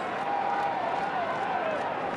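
Stadium crowd roars steadily in full voice at an AFL match between Fremantle Dockers and West Coast Eagles in 2012, a dense continuous wash of cheering with a faint voice gliding over it.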